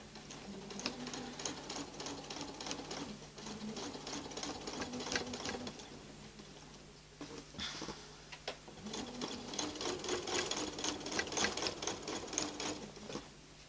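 A sewing machine runs diagonal quilting stitches across a Valentine's quilt top in close, steady bursts of rapid mechanical ticking, pausing briefly midway before stitching on again.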